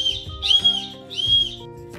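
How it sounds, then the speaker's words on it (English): Two shrill whistle blasts sound close by, each lasting around half a second, with a short gap between them. "the way you do that is you blow your whistle 3 times."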